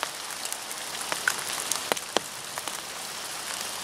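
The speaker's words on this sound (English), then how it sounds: "maybe I'll get something now that has started to rain a little bit." Light rain falls while fishing outdoors near home, a soft steady patter with a few distinct drops tapping close by over a constant hiss, and no talking.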